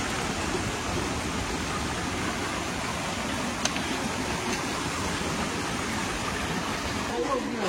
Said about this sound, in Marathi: पाऊस यायला लागलाय